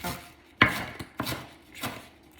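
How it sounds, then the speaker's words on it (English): A knife chops food on a cutting board in a home kitchen, giving about four to five separate sharp knocks at an uneven pace, close and fairly clear. "let's give that a good old chop"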